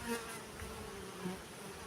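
Honey bees from a caught wild swarm buzz steadily at their hive in an apiary, a close, continuous insect drone with a few brief louder passes of individual bees.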